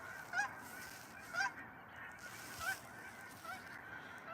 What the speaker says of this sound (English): There's a kegger going on somewhere because that's like hundreds of geese.